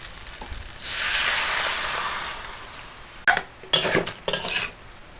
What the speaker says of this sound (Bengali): আলু কচু আর বেগুন বেশ ভালো করে ভেজে নেব বেশ খানিকক্ষণ সময় ধরে